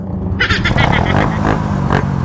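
A Yamaha Sniper 155 motorcycle exhaust runs up close with a loud, rough, buzzing drone, revving slightly as it goes.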